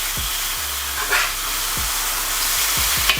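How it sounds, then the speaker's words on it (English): A jalapeno smash burger patty sizzles loudly on a hot surface while a sharp spatula scrapes underneath it and flips it, giving a few short scraping knocks over a constant frying hiss. "once the edges look brown and crispy, scrape underneath with a sharp spatula and flip"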